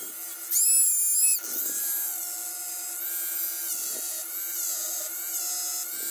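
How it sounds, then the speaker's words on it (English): A small rotary grinder whines steadily as it grinds off the staked screw ends on a Quadrajet carburetor throttle shaft from a Cadillac 472, rising in pitch for a moment early on, then running continuously and close by. "what we need to do is grind that off before we try to screw these out of the"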